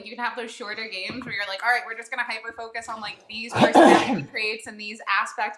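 A single sharp sneeze bursts out midway through a conversation about tabletop role-playing games, loud and close, with people talking before and after it.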